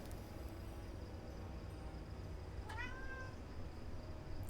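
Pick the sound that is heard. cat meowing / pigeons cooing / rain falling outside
cat meowing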